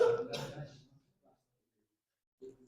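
A throaty cough or throat clear in a classroom, one close rough burst fading out, followed by silence and a brief faint sound at the end.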